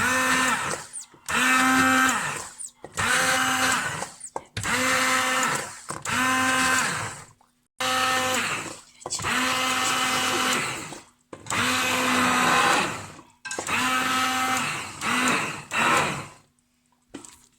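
Loud pulsing whir of a hand blender blending cooked vegetable soup, roughly ten bursts separated by brief silent gaps, steady and close, with no voices.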